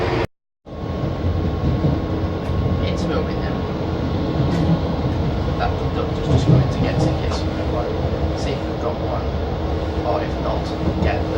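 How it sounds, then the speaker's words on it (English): Interior of a moving passenger train, with a steady low rumble and rolling noise running continuously after a brief dropout at the start, plus occasional faint clicks and rattles; muffled voices murmur underneath. "So I'm on the train, just waiting for it to set off."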